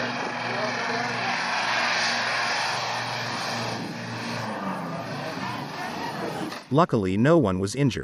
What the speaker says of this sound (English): This plane was taking off but suddenly its wings strike to the ground and then causing it to crash.